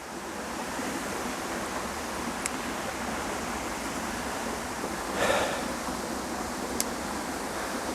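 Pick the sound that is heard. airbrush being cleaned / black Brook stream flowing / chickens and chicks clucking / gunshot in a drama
black Brook stream flowing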